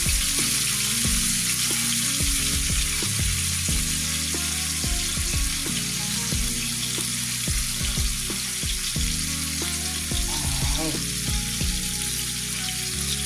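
Turkey browns in a pan over low heat, with salt, thyme and pepper on it, making a continuous close sizzle and crackle of frying with scattered small pops throughout.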